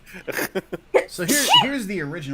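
A short human sneeze bursts out around the one-second mark, sandwiched between bits of conversation as people talk throughout.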